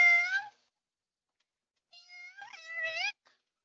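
Two drawn-out cat meows, one short and one longer and wavering, separated by a couple of seconds of silence, fairly clear and close.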